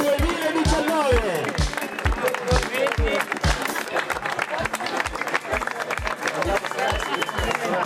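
Crowd applauding the first-place dodgeball team at a 2019 charity sports games podium, steady and loud throughout, with rhythmic thumping beats and scattered voices mixed in.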